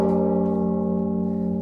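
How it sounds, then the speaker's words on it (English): Bells ring out on a live stream to mark third down during an Alabama football game, a sustained resonant chime with steady overlapping tones that holds nearly level throughout, with no voices. "You hear the bells going off."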